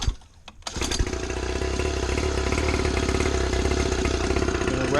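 A 49cc dirt bike engine kicks over and catches after brief clunks, then runs with a loud, steady buzzing drone close by, holding a high idle with slight wavering revs.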